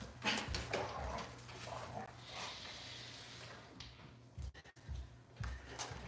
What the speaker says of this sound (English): You can't see it, but my dogs are out here fighting.